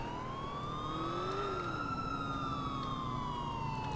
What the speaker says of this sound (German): jetzt hat er ja auch Sirene wieder